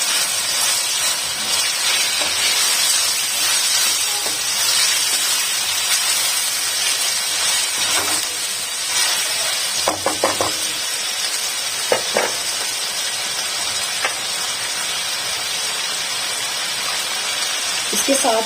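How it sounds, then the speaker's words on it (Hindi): Chicken fries in a pan with a white bean (lobia) masala, giving a continuous, loud hissing sizzle, broken by a few brief clinks of stirring near the middle. "मिक्स कर लेंगे और चिकन को इसके साथ थोड़ा फ्राई कर लेंगे।"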